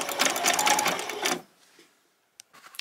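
A sewing machine runs a zigzag stitch around fabric for a doll's boxer shorts, whirring steadily and close for about a second and a half before stopping, followed by a few faint handling clicks.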